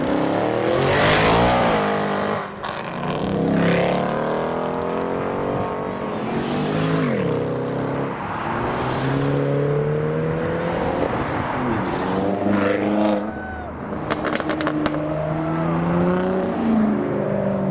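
Several loud modified supercars, including an Audi RS6, RS7, Mustang and McLaren, accelerate hard past one after another at a London start line, engines rising and falling in pitch, with sharp revving and whooshing passes.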